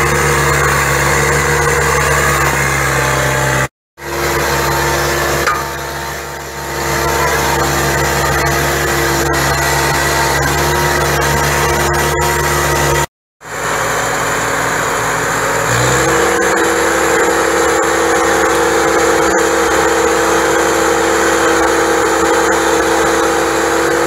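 A 7610 tractor, built since 1982, pulls a three-shank subsoiler deep through very hard vineyard ground, its engine droning loud and steady with a hissing, labouring tone and two brief dropouts.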